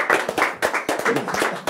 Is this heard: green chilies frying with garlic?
no